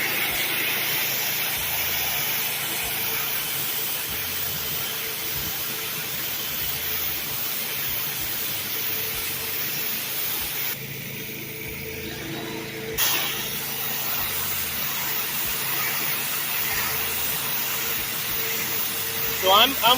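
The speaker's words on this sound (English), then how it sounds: "Alfred is using the surface cleaner and I'm using the wand to get up these tire tracks like this" A pressure washer's surface cleaner and wand blast tire tracks off pavement, giving a loud, continuous hissing roar that runs nearly unbroken, with one brief lull partway through.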